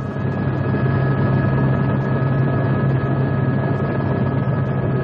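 A helicopter drones loudly and continuously over the Lavrado savanna of Roraima, Brazil, its rotor chop and engine hum steady and close throughout.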